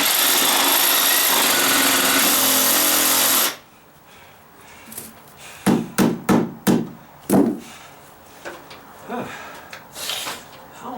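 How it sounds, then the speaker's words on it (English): Reciprocating saw in short bursts of cutting, a loud continuous buzz for a few seconds then cutting off, followed by quieter separate knocks and clunks. "Okay, Sawzall again,"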